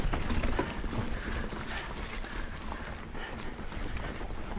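Steady wind rushes past a mountain biker on the Cafall trail at Cwmcarn in Wales, a continuous broadband roar that starts slightly louder and then holds at a steady level throughout.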